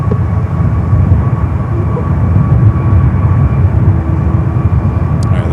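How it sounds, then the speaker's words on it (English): A Boeing 787 Dreamliner in special livery departs San Francisco airport, a loud, steady broadband engine roar with a constant low rumble and a faint tonal whine held throughout. "We saw this Dreamliner coming in from Newark earlier, now heading back to the East Coast."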